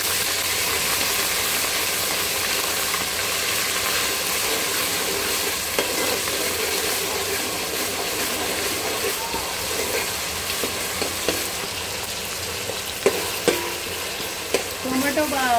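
Tomatoes and masala cook and sizzle in a pan for paneer dum biryani, with steady frying hiss and occasional stirring clinks and scrapes, close up, with no talk.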